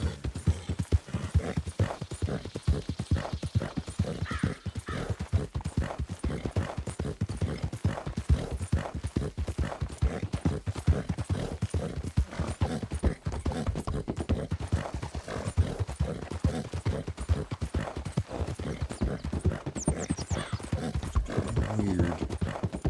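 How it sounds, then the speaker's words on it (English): A horse trots steadily in a video game, with quick, even clip-clop hoofbeats continuing for a long stretch, close and clear. "Okay, horse, let's just bounce off every little pebble here."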